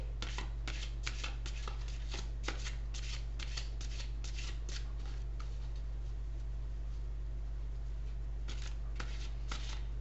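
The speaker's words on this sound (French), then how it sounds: "Je vais finir par une carte des rebelles sacrés." A deck of oracle cards is shuffled by hand in quick, crisp riffling bursts, close and fairly soft, followed by a quieter stretch and a final flurry of shuffling; there is no speech.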